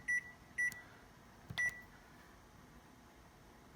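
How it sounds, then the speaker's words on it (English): A kitchen timer gives short electronic beeps as it is set for ten minutes, three separate bleeps with brief gaps, faint over a low room hum, with no speech. "Now let's set a timer for 10 minutes"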